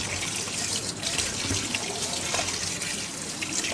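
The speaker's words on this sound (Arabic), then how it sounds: "هفتح عليه الميه، طبعا حطاه في مصفى علشان ينزل اي حاجه فيه اهو" Tap water runs over tripe sitting in a strainer in a sink, a steady, close splashing gush that keeps going without a break.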